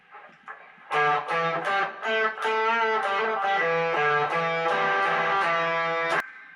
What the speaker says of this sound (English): it's a really cool extra guitar part